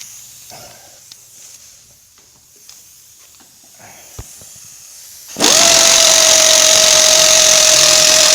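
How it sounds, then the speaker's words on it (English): A pneumatic air ratchet runs continuously at close range as it loosens an angled screw during a radiator replacement in an auto shop, starting abruptly after a quiet stretch and holding a loud, steady whine to the end. "It had to have an air ratchet."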